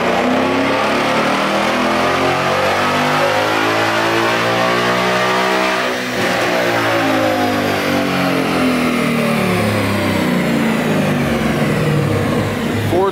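A Ford Mustang S550 with JLT intake, X-pipe and tune roars through a dyno pull, a loud close engine rising steadily in pitch with a brief dip midway before climbing again, no talk.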